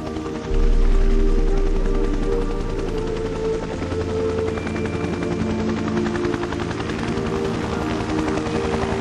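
A Vietnam-era Huey helicopter's rotor thumps steadily with a deep, rhythmic whop and engine drone, loud and close throughout, with no voices.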